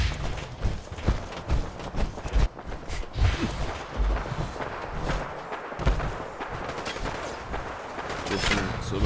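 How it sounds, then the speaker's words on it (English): Video game gunfire aimed at super mutants, with a player in power armor, comes as dense, continuous bursts of shots and impacts layered over busy combat noise throughout. "There's so much shooting on them."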